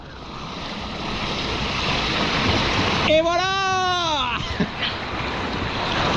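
A steady, heavy rush of water pours continuously from opened sluice gates, loud and close, with a person speaking briefly over the torrent.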